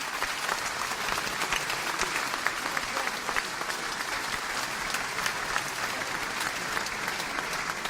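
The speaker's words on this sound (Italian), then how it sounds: "Un applauso forte per gli amici di Sorgono." An audience at a choral event in Nuoro claps for the Sanctu Mauro choral association from Sorgono, a steady, sustained round of applause from a sizeable crowd, even in level from start to finish with no talking over it.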